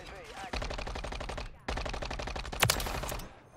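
Sustained automatic gunfire from a Call of Duty match, two long bursts of rapid shots split by a brief pause, with a sharp louder crack near the end of the second burst.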